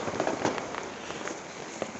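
Fourth of July fireworks going off nearby, heard from a patio as a dense wash of crackling and hiss with several sharper pops and bangs scattered through it.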